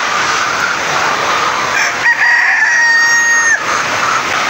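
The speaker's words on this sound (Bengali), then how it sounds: "কত গিলা আছে লেয়ার মুরগি?" White layer hens on a poultry farm, a dense, continuous chorus of clucking and cackling, with one longer, drawn-out call rising above the flock midway.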